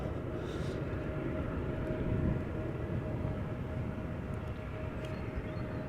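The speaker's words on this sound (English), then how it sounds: "If you're liking Embraer 175s, you're in luck because there is another one lining up" An Embraer 175 airliner lines up at the runway threshold at Amsterdam Schiphol Airport, heard at a distance as a steady, low jet engine rumble with a faint whine above it.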